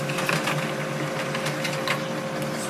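A Brother HL-L2390DW laser printer runs a copy: a steady mechanical whir with a rhythmic clicking and tapping of rollers feeding paper, close and continuous.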